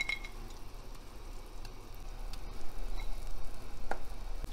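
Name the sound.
sugar syrup boiling with Kemal Paşa dessert in pot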